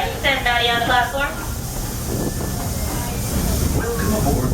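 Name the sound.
Walt Disney World Railroad steam train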